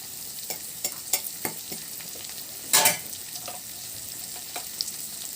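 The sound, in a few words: stir-frying bell pepper (capsicum) for egg noodles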